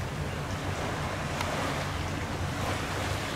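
Ocean surf washes steadily onto a resort beach in Mauritius, a soft continuous hiss of waves with some wind buffeting the microphone, heard from a deck.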